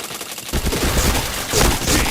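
Rapid gunfire in a multiplayer shooter game, a dense burst of loud overlapping shots breaking out after a brief quieter moment and continuing throughout.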